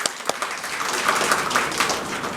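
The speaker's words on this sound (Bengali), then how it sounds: "বাবা জোরে হাততালি" Audience in a school seminar hall clapping, a sharp first clap followed by a sustained, fairly even burst of applause at moderate volume.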